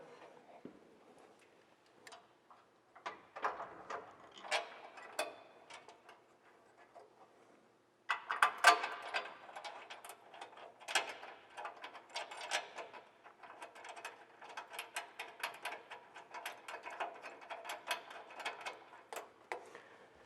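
Screws and a nut being tightened by hand on a light mount for a second-generation Ford Raptor Elite, a steady run of quiet ticking, ratcheting clicks that pause briefly, then resume louder and denser, close by with no talk.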